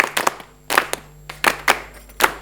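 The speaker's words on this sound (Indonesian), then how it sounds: "Yang di sana mana dong tepuk tangannya?" Scattered hand claps from an audience at a school quiz competition in Palembang, a handful of sharp separate claps rather than full applause, fairly close and loud against a quiet hum.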